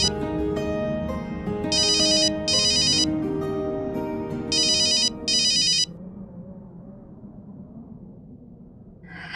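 A telephone rings in short repeated electronic bursts, two pairs of trills separated by a pause, loud and clear over a soft dramatic music bed that continues after the ringing stops.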